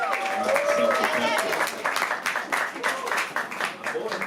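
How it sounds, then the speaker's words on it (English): Live audience applauding at a talk on self-perception and the physics of reality, a dense wash of clapping that swells then thins over several seconds, with voices mixed in. "Another round of applause for Daniel."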